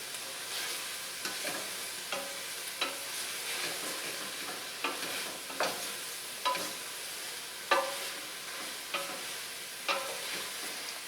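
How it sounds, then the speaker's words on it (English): Risotto with asparagus and mushrooms is stirred in a pan over a soft, steady sizzle, with a spoon scraping the pan in regular, gentle strokes, close but quiet. "now let's stir this around and see what it looks like"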